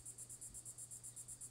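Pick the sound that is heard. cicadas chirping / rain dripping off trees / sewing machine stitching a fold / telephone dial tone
cicadas chirping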